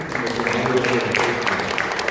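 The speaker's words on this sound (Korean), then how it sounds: "우리 모두 박수 한번 마무리하도록" An audience claps to close a conference panel discussion on community care in a super-aged society, a steady wash of applause with voices mixed in throughout.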